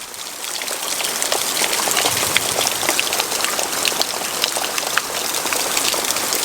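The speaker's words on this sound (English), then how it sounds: "it's lashing it down now" Heavy rain lashes down steadily on a sailing boat, a dense, continuous hiss of drops drumming on the deck and surfaces, close and loud throughout with no voices.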